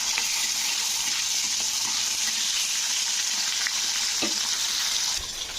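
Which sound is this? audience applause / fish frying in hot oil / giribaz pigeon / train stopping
fish frying in hot oil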